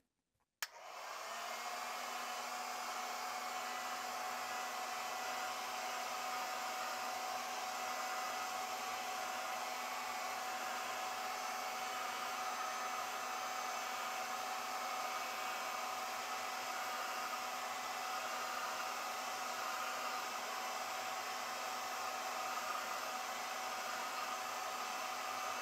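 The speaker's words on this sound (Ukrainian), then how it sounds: "Для цього я використовую такий звичайний будівельний фен." An ordinary construction heat gun warms epoxy resin on a handmade pike jerkbait lure, its steady loud blowing whoosh running continuously after a sharp start, with no talking.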